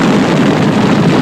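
Funny cars from 1970s drag racing launch down the strip with a loud, continuous, roaring engine blast that fills the short moment.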